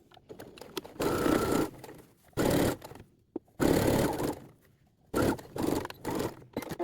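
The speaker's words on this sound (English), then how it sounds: "Yeah, so sew down, and then sew the sides next." Sewing machine stitching pockets onto a pinafore dress runs in four or five loud, close bursts of fast whirring, with short quiet pauses and small clicks between them.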